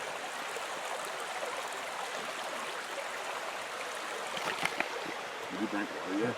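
A shallow stream at a backcountry water crossing, with the water level low, rushes steadily and close by. A few faint knocks and voice-like sounds come near the end.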